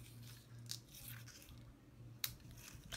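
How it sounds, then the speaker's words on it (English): Scissors snip through foam adhesive tape in a few quiet, sharp cuts, with a low steady hum running underneath. "I'm going to use my scissors here."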